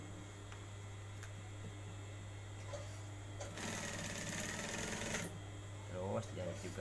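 A sewing machine stitches a men's shirt collar in a short burst near the middle, moderately loud, with light handling noises and someone speaking around it over a steady background hum.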